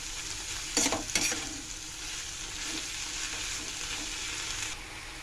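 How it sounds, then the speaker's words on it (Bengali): Hilsa fish head and water lily stems cooking in a pan give a steady, close sizzle throughout, with a couple of brief clinks of a stirring utensil near the start. "আমি এখন এটাকে একটু সেদ্ধ হতে দেবো।"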